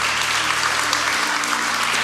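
A church congregation claps steadily and loudly, a dense wash of applause filling the sanctuary without pause.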